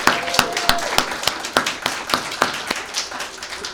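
A graduation audience at the Fridley Area Learning Center's 2021 ceremony gives graduates a round of applause, with sparse, distinct claps landing at a steady, unhurried pace from a modest crowd at middle distance.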